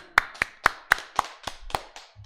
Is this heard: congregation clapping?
yes